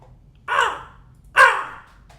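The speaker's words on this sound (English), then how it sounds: "it is a raven" A raven gives two harsh, hoarse caws about a second apart, fairly close and clear against a quiet background, followed by a faint third call.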